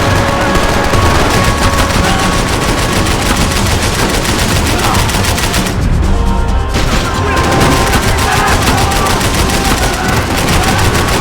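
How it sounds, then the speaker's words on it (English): Dense gunfire from the video game Max Payne 3 with bullets whizzing past, loud, continuous and close, with rapid shots and impacts and only a short thinning of the barrage partway through. "Bullets whizzing past my head."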